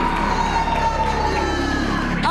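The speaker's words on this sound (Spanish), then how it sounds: "Aplausos para la pareja de Memo. Aplausos para la pareja de Zumbido." A TV studio audience cheers and applauds a couple, a loud continuous crowd roar over background music.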